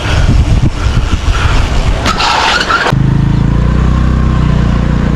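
Scooter engine running steadily while riding, a loud continuous mid-pitched drone with rushing wind noise that shifts to a smoother, more even hum partway through.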